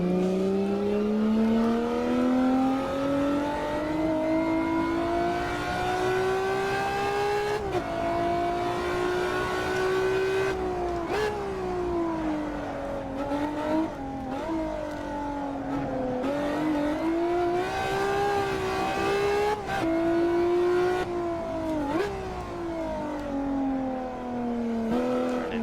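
Ferrari F50 in a racing simulator, its engine revving and climbing through the gears as it accelerates, with short dips at each upshift and lift-off, loud and steady with no voices.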